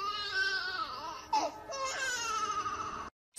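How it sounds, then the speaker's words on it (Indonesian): A baby cries loudly and continuously from a thorny bush, wailing with rising and falling pitch, then cuts off briefly into silence before starting again. "mereka mendengar suara bayi menangis di semak duri di dekatnya"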